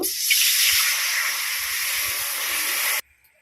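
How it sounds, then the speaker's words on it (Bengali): Water meets a hot wok with a loud, steady hiss of steam that holds for about three seconds and then stops abruptly, leaving near silence. "কড়াইতে একটু জল দেব।"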